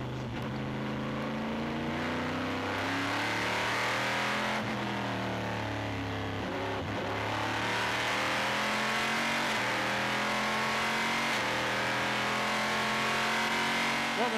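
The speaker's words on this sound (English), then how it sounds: "there's such thunder going on in there that we're hearing it." Onboard race car engine during the 2008 Le Mans Series 1000 km of Spa, roaring loud and continuous with rising and falling pitch as it accelerates, shifts gears and brakes, with no voices.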